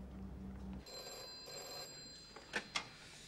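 A telephone bell rings in a quiet room, a bright electronic tone holding for over a second, followed by two short clunks like the receiver being handled.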